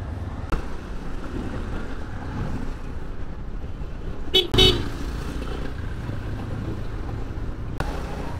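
A Hero Thriller 160 motorbike stuck in a city traffic jam, with a steady engine and road rumble underneath and several car horns honking, one sharp burst near the middle and shorter toots at the start and end.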